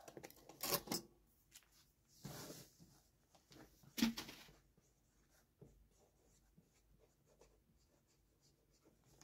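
Small black pen writing on paper, heard as quiet scratchy strokes in short bursts with pauses, close and faint, no talking.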